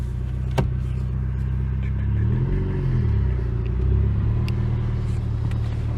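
A Mitsubishi Evo with a grippy clutch rolls along in the cabin with a steady low road rumble and engine drone that swells slightly midway, heard from inside the car.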